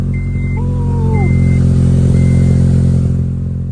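Car engine idling and revving through a leaking homemade junkyard exhaust, a loud close rumble with steady harmonic drone, overlaid by a few high electronic beeps.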